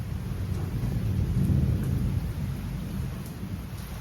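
Heavy rain pours steadily while thunder rumbles deep and continuous through the storm, a loud, dense wash of rainfall with a low rolling roar beneath and no voices.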